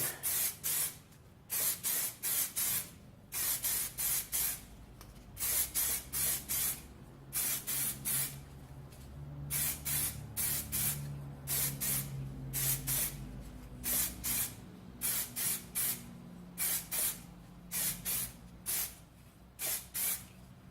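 An aerosol can spraying paint onto a Union rim lock during restoration: repeated short hissing bursts, close and loud, in an irregular rhythm of quick sprays separated by brief pauses, no talking.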